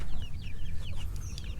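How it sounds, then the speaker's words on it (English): Chicks at a duck farm giving a flurry of quick high cheeping peeps over a low rumbling background, several birds overlapping in a short burst. "Look at all the little chickies in there."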